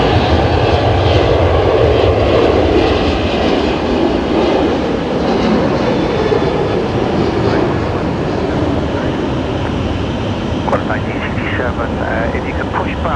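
A Velocity Boeing 737-800 airliner taxis at Brisbane Airport at night, its engines producing a loud, steady, broad roar that continues throughout, with a faint chirping sound near the end.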